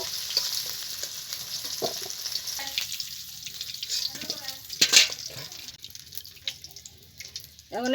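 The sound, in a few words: potatoes frying in oil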